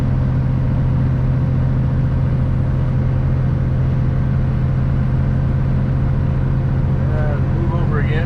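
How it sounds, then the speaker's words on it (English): Heavy semi truck climbing the steep Copper Canyon grade after a downshift from 10th to 9th gear, its diesel engine a steady, loud low drone throughout while someone talks over it. "It's getting steeper in 10th gear. So I'm going to go ahead and downshift."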